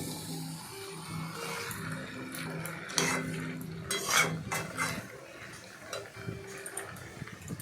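A spatula stirs katla fish head muri ghonto with sugar in a pan, giving irregular scraping and clinking strokes over a low steady hum, moderately close.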